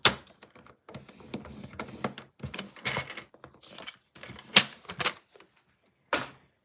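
Scoring tool pressed and drawn along cardstock while making a card, giving a series of short scraping strokes and taps, close and moderately loud, with quiet gaps between them and no talking.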